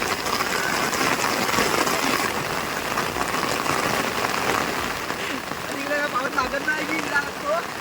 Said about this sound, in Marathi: ह्या साईडनेच पाऊस येतोय जास्त